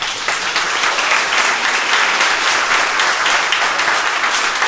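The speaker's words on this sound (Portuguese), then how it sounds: "Então eu peço uma salva de palmas para Cláudio Macarones." Loud, sustained applause from a large audience at an offshore industry event, dense and even throughout.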